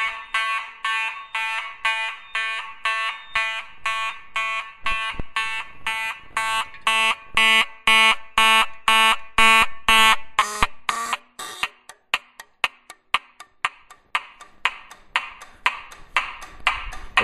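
A Simplex 2901 fire alarm horn, its pitch adjusted all the way down, blares in a steady pulsing rhythm of loud buzzing blasts, then switches to faster, sharper rapid clicks toward the end, with no voices.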